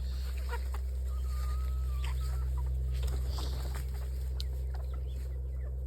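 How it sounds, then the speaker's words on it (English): Backyard chickens cluck and murmur softly near a coop over a steady low hum, with scattered calls and no talk. "Look at all the little chickens."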